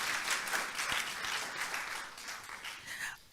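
Participants applaud a presenter at an online export seminar, a modest, steady patter of clapping at moderate distance that fades out near the end.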